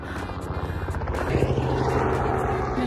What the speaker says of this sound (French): L'hélico.